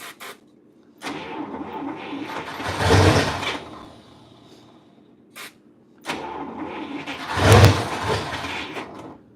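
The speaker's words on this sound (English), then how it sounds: "All right, we're gonna start his Buick." A Buick car engine cranks and turns over twice in a closed shop, each start swelling into a rough, loud idle before settling, with a brief click between attempts.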